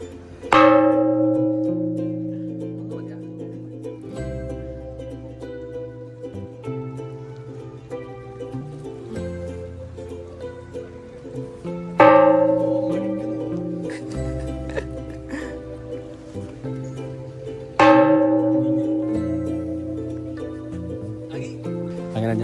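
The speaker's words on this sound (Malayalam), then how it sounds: "ആ മണിക്ക് നല്ല വെയിറ്റ് ഉണ്ട് കേട്ടോ" A heavy temple bell at Chin Swee Cave in Genting Highlands, Malaysia, is struck three times, each loud clang ringing out and decaying slowly over a steady background drone.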